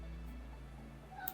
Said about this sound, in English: yes cat, I hear you